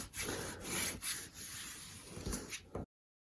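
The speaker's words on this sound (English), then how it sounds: "get your score, your bone folder. And just burnish that down." A bone folder rubs and burnishes down paper for a mini album. The strokes come as a few close, scratchy back-and-forth passes that stop abruptly.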